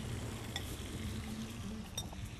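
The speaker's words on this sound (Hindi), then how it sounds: "इसके अंदर हम अपना मछली और टिक्का, सॉसेज का टिक्का, ये दोनों डाल देंगे" Fish and sausage tikka sizzle in a very hot pan, a steady close hiss of frying with a couple of faint utensil clinks, with no voices.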